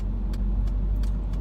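A Corvette drives past on a Pennsylvania road, heard as a steady, loud car engine and road rumble from inside a moving vehicle, with no talking.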